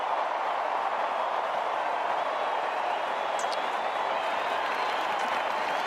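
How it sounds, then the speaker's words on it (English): Sustained crowd applause and clapping from Fremantle and Sydney Swans supporters at an Australian football match in a stadium, a dense continuous roar of hands filling the whole stretch. "they were happy to join in the Fremantle supporters' applause for one of the much admired players in footy"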